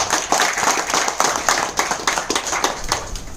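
An indoor audience at a business meeting claps in a burst of dense, rhythmic applause that stays loud and close throughout.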